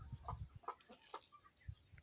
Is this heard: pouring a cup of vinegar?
no